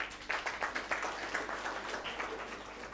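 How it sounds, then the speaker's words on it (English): An audience at a debate academy opening ceremony claps hands in a burst of fairly close, rapid applause that rises sharply and then gradually thins out. "with a hand clap."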